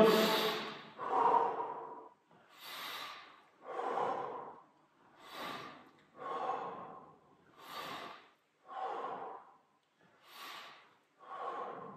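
Steady exercise breathing during a seated resistance-band gymnastics workout: about eight slow, close breath cycles, each a soft inhale followed by a louder blown exhale, evenly spaced with quiet gaps and no talking.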